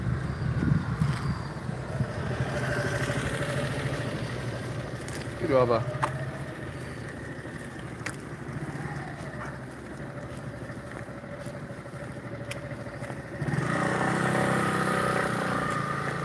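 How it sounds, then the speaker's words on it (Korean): A motorcycle engine passes along a street, rumbling steadily and swelling louder near the end, while a person speaks over it at close range. "오토바이네, 오토바이."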